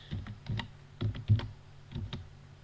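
Keys tapped on a computer keyboard in short clusters of clicks with brief pauses between them, close and fairly quiet, no voices.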